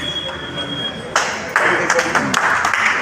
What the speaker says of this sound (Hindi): जोरदार तालियां एक बार सभी